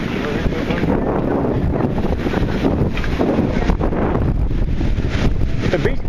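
Strong wind on a beach after Hurricane Arthur roars and buffets the microphone without letup, with a broad rushing noise that may hide surf or voices underneath.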